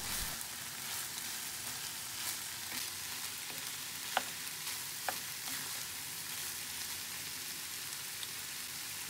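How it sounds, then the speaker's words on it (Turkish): Peppers sautéing in a hot pan give a steady close sizzle throughout, with a few sharp clicks and scrapes from stirring and no one speaking. "Üç 4 dakikada biberlerle beraber kavuruyorum."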